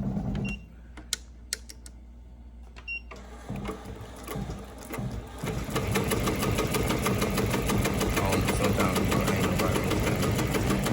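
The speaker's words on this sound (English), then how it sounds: "I can hear it when it miss stitches. I don't even have to see it. I can hear the machine." Embroidery sewing machine stitching a Greek jacket, starting with a few sharp clicks and quiet pauses, then settling into a fast, steady mechanical clatter that runs loud and continuous to the end.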